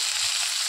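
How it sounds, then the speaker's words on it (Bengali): Potatoes frying in oil already used for frying fish, a brief close hiss of sizzling oil, even and unbroken, with no talking. "আলুটা লাল লাল করে ভেজে নেব।"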